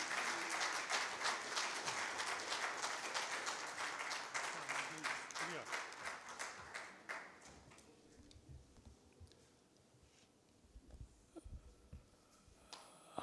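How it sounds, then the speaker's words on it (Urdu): Audience applause at a book launch for a literary work, a dense burst of clapping that fills the room for about seven seconds, then thins out and fades into scattered claps and quiet room noise. "اس بھرپور کام پر بھرپور تالیاں ہونی چاہیے مظہر جمیل صاحب کے لیے۔"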